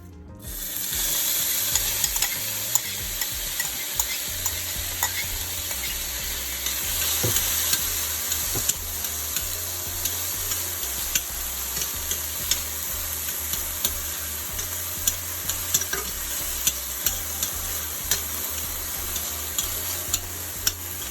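Onion and sweet pepper sautéing in a pan for shepherd's pie, a steady sizzle with frequent stirring scrapes and small ticks running throughout, close and fairly loud, with no talking.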